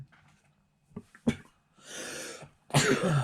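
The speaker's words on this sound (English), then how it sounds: "Let me sneeze." A sudden, forceful sneeze bursts out near the end, preceded by a few short throat noises and a breathy rush of air.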